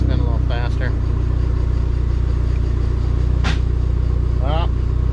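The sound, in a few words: Dodge SRT4 engine revving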